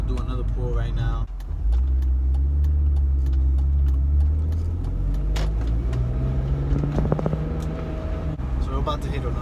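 A car engine pulls hard at high speed in a low, sustained roar that builds and shifts as it accelerates, close and loud, with people talking over it.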